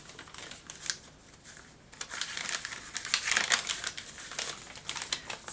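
Paper aged with coffee and stamped, handled for a junk journal, crinkles and crackles in close, uneven bursts as it is crumpled and folded, growing louder toward the end, with no talk.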